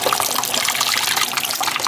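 Hot water running from a tap while a printed cross stitch canvas is washed, a loud, close, continuous gushing stream with no voices.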